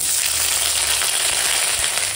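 Dry chilli, bay leaf and whole cumin tempering in hot oil in a pan: a loud, steady, close-up sizzle with dense crackling hiss throughout, no voices.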